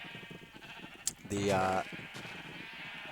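A single short sheep bleat from the Minecraft video game rings out over someone talking during gameplay.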